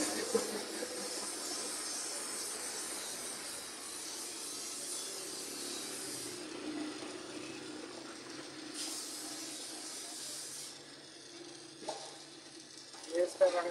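A torch flame hisses steadily as it burns paint off a refrigerator condenser pipe, a continuous close roar with brief bursts of sharper hiss partway through and a voice talking over it.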